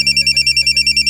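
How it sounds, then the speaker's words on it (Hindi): A telephone rings loudly and close in a fast, even electronic trill of about ten regular pulses, with no talking. "अरे आपका फोन।"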